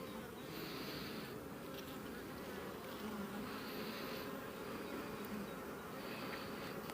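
Honeybees swarm over an opened hive, their dense buzzing holding steady and close for the whole stretch with no voices.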